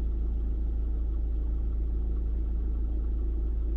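A car engine idles steadily, a continuous low rumble that holds even and close throughout, with no revving or voices.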